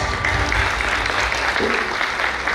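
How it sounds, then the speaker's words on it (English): Audience applause at a Sub Regional Conference opening ceremony for the Amravati Branch chairman, a steady dense wash of clapping that holds at an even level for the whole stretch, with no voices standing out. "Big round of applause"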